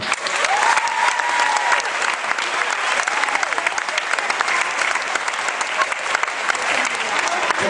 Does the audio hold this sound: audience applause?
yes